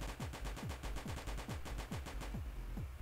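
Rapid AK gunfire in the zombie shooter Oh No! Zombies Alive, a loud sustained burst of evenly spaced shots with a steady pounding rhythm that cuts off near the end.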